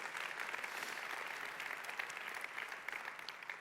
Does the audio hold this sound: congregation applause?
yes